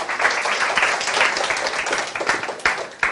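A university design class applauds students after a presentation, a fairly loud wash of clapping from the room that thins toward the end with a few sharp final claps.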